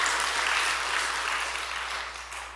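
A church congregation applauds at a Wednesday worship service, a dense, continuous wash of many hands clapping that fades slightly toward the end.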